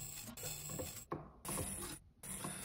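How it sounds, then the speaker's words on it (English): Synclavier Regen synthesizer playing a sample with high-ratio FM modulation added, giving a gritty, clanking, metallic texture in several bursts separated by brief dropouts, with no talk. "Can make it more interesting by adding FM to it."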